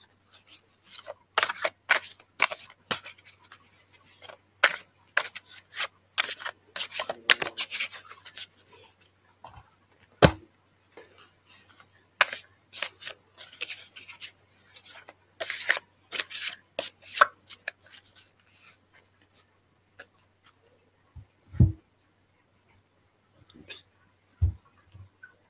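Tarot cards shuffled by hand at close range, a long run of quick, crisp riffling and slapping bursts with brief pauses, a few sharper knocks near the end, no talking over it.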